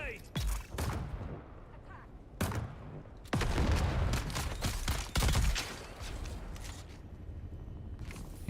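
Gunfire in the sci-fi survival game Dune Awakening, with several sharp bursts of shots and mechanical clatter breaking through a busy game soundscape while a player talks over the action.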